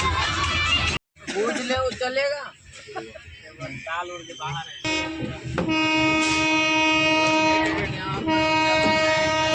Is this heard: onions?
no